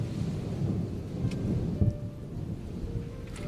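Lo-fi ambience track of a thunderstorm with steady rain hiss and low rumbling thunder, a couple of heavier rolls in the middle, continuous and fairly quiet with no voices.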